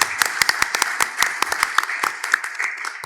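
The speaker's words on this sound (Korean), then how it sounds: "토론자 세 분을 우선 박수로 환영해 주시기 바랍니다." Audience at a foundation's anniversary symposium claps to welcome three panel discussants, a burst of sharp, uneven hand claps from a modest crowd, fairly close and steady for about three seconds.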